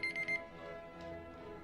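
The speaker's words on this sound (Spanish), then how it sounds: "esa fue la alarma." A short electronic alarm beeps in a few quick bursts, then stops, leaving a faint low background.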